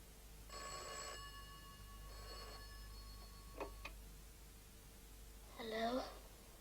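An old telephone rings at home in bursts, two trilling rings followed by a few faint clicks and then a brief voice, all quiet and fairly distant.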